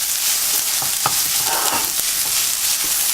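Shredded Brussels sprouts coated with Dijon mustard are tossed in a hot pan, a loud, continuous sizzle with a few soft scraping stirs.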